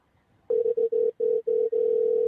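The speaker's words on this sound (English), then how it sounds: "Oh, we're ringing. Sounds very old-timey ringy." Old-fashioned telephone ringback tone on a call: a steady mid-pitched buzzing tone in five or six bursts separated by short gaps, the last one long, loud and close, with no talk over it.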